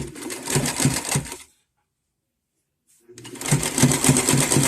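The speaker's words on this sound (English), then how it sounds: "I'm going to start out with my reinforcement stitch and then do a zigzag stitch." A sewing machine runs a reinforcement and zigzag stitch on shoulder straps for upcycled clothing, loud and close, stitching for about a second, pausing in silence, then starting again.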